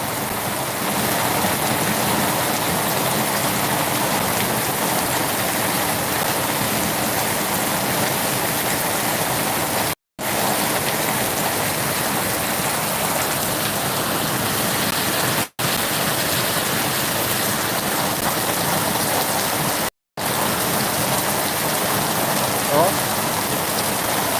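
Big drops of heavy rain hammer a cement surface in a dense, steady wash of noise that stays loud and close throughout, broken only by a few momentary gaps.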